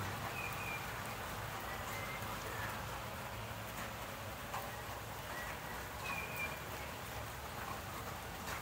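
Steady rain hiss fills the whole stretch, a soft continuous patter with no pauses, with faint chirps breaking through now and then in the background.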